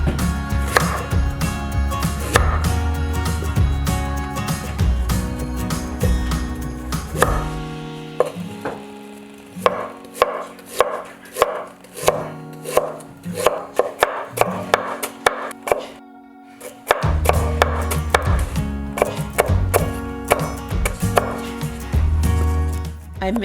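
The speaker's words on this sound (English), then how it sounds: "Next, I use 1 piece of ginger. Slice it into thin pieces and add all of it into the pot right away." A piece of ginger sliced into thin pieces on a cutting board for Hmong-style whitefish soup, a rapid run of sharp, close knife taps against the board, with quieter gaps between passes.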